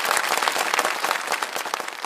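A game show studio audience applauding to welcome guests onto the stage, dense steady clapping from many hands at moderate loudness, with no talk.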